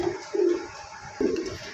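A pair of Silver Lokkha pigeons, the hen an Indonesian bird, coo close by in three short, soft, throaty bursts with quiet gaps between.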